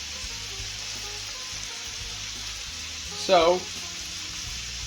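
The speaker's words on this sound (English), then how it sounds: "Here we have the mince getting nice and well done." Mince fries in a pan with a steady, soft sizzle, and a brief louder burst of stirring or hissing comes partway through; a voice speaks briefly.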